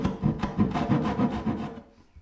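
A hand saw makes short stopping cuts in wood for a rolling cabinet base, with about six steady rasping back-and-forth strokes up close before it stops into near quiet.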